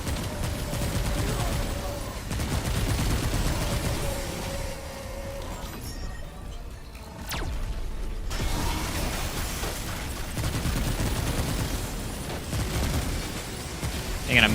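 Handgun fire in the video game Remnant 2, steady rapid shots and mechanical clatter blending into a dense, loud game mix for most of the stretch, with a brief lull midway.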